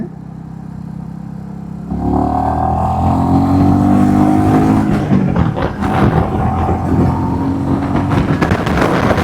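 A cruiser motorcycle engine accelerates through its gears, a steady mid-pitched drone building louder with rising tones as the bike picks up speed, close and alone.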